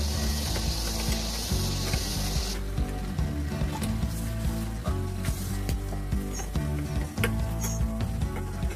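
Chicken cooks in a covered pan, a steady dense sizzle and bubbling hiss running throughout with occasional small clinks, no talking.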